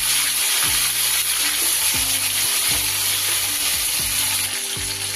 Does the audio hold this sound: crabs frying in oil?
yes